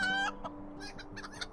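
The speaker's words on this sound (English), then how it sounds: "That chicken's from LotRO." A chicken from the video game LotRO clucks and squawks in a short burst, loud and close with no talk.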